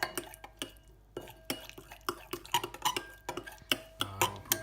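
Tomato puree and dark soya sauce being stirred together in a small bowl, a string of light, close clinks and scrapes of a utensil against the dish in an irregular rhythm, with no talking.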